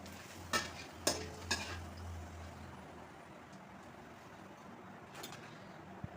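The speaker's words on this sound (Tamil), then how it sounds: "இப்போ எண்ணெய் காஞ்சிருச்சு, அப்பளத்தை போட்டு" Appalam (papad) frying in hot oil gives a faint, steady sizzle, broken early by a few sharp clinks and by one more near the end, with distant traffic hum underneath and no voices.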